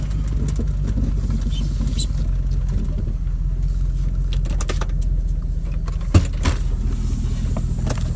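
A Chevy truck engine idles roughly with a steady low rumble and an uneven, lumpy pulse suggesting a misfire, recorded close from inside the cab, with a few light clicks and rattles over it.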